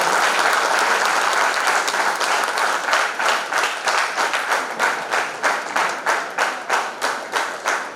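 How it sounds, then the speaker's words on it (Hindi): A crowd at a folk-art cultural gathering breaks into dense applause that gradually settles into loud rhythmic unison clapping with a steady beat, continuing to the end. "एक बार जोरदार तालियों से मैं अभिनंदन"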